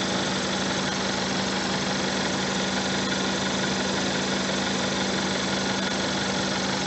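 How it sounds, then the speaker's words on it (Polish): A VW 1.4 TSI car engine idles after its belt rollers were replaced, giving a smooth, steady hum with a faint even vibration and no squeals or creaks, running continuously with no talk. "Silnik pracuje cicho. Ustało piszczenie i skrzypienie."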